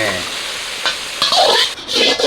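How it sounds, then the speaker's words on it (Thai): Spring rolls and shrimp sizzling and crackling in hot oil in a pan, with bursts of stirring and spattering that swell and fade over a couple of seconds. "ทอดแบบพอกรอบ"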